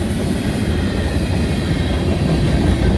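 A heavy freight train of molten sulfur tank cars rolls past close by, making a loud, continuous rumble with rhythmic wheel clatter and a faint squeal of wheels.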